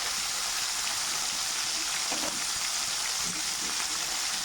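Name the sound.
fish frying in oil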